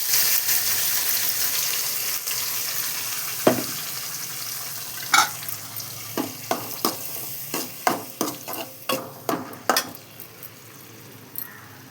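Ground onion and tomato paste is poured into a hot pan for crab gravy. A hiss of frying is followed by a series of sharp spoon scrapes and knocks that come closer together toward the end.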